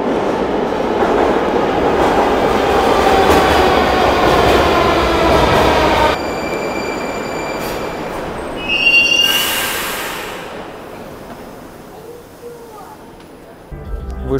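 A metro train on the Kazan subway rumbles loudly with wheel noise and squeal for several seconds, then quiets as it departs, leaving a fading hum and a brief hiss.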